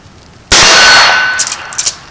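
A steel target rings with a sharp, loud metallic clang as a Henry 17HMR rifle round strikes it, followed by a decaying ring and a few fainter clinks.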